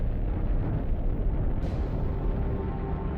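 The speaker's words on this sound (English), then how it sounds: "This is a gamma-ray burst, the biggest explosion to rock the universe since the Big Bang." A deep, sustained rumbling roar stands in for a gamma-ray burst explosion in a space documentary, loud and steady throughout with no talking.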